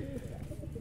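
A brief, soft burst of low pigeon cooing, murmuring close by against a hum of background noise.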